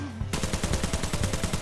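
Rapid spray fire from an AK rifle in the video game Arena Breakout: a fast, loud automatic burst of evenly spaced shots starting abruptly and continuing to the end.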